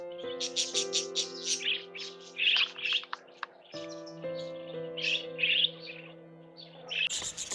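A flock of budgerigars perched on the bare upper limbs of a tree, chirping and warbling continuously in dense overlapping calls, fairly close and lively throughout.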